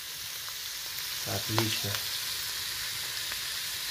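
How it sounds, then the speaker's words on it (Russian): Cauliflower mushroom (Sparassis) fries in oil in a pan, a steady close hiss and crackle throughout, with a short spoken word in the middle. "Ну вот, начали жарить грибочки."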